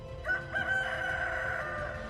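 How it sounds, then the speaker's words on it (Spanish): A rooster crows once in a long, drawn-out cock-a-doodle-doo, clear and moderately close, alone without talking. "En ese instante cantó un gallo."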